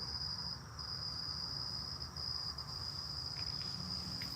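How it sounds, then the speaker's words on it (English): Cicadas buzz outdoors on a hot evening, a steady high-pitched insect drone holding unbroken throughout over a low background rumble, with no talk. "can you turn your cicadas down?"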